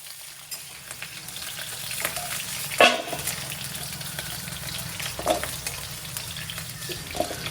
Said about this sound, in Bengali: এবার কড়াইয়ে তেল দিয়ে দেবো, তেলের মধ্যে আমি দিয়ে দেবো সজনে ডাঁটা। সজনে ডাঁটাগুলো ভালো করে আগে ভেজে নেব।